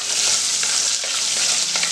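Onion sizzling steadily in seasoned oil for a garlic tamarind curry (poondu puli kuzhambu), with whole shallots and garlic cloves in the pan; a dense, continuous frying hiss with faint stirring clatter, close and alone.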